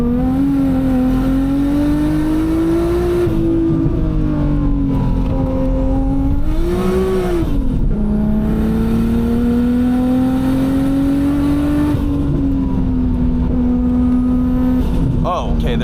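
Nissan Skyline R32 GTR in stock form revs steadily while cruising, its engine note climbing and dipping through gear changes with a continuous nearby drone.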